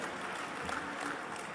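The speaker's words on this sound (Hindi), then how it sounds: "तालियां जोर से बजाइए।" Audience clapping at a Bhopal community matrimonial gathering for young men and women, a dense, steady wash of many hands that stays fairly even and moderately loud throughout.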